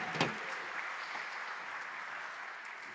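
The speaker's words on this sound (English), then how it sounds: "Let's everyone give them a round of applause." An audience applauds, a steady wash of clapping hands at moderate distance that carries evenly through the moment without any voices.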